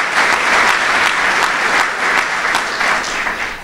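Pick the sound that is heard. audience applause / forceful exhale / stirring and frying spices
audience applause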